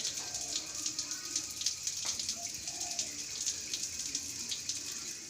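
Tap water runs steadily as a small child washes drinking glasses, bowls and a baby bottle at a sink, a continuous near splashing hiss with faint irregular clinks, no talk.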